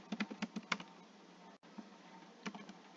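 Keys on a computer keyboard clatter in quick bursts as Java code is typed, a brief pause in the middle, then a few more taps; close and quiet with no voice.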